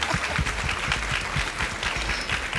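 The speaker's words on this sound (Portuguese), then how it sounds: "Uma salva de palmas, Monja Cohen." An audience applauds steadily and densely for Monja Coen at a corporate HR conference session.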